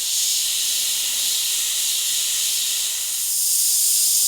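An airbrush sprays paint with a steady, close, bright hiss of compressed air that holds nearly constant for several seconds, swelling slightly near the end.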